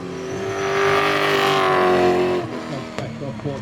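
A V8 Supercar racing engine roars loud and close at a motorsport festival in Adelaide, rising in a steady high-revving pass before backing off. A commentator talks over it throughout.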